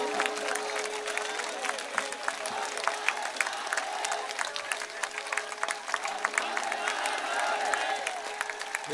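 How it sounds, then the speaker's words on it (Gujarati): A large crowd claps at an outdoor political rally, sustained dense applause with a distant, hall-like wash and a faint steady tone, with scattered voices and crowd noise mixed in. "જ્યાં સુધી સ્ટેજમાંથી તાળીઓનો અવાજ ના આવે ત્યાં સુધી ચાલુ રાખો"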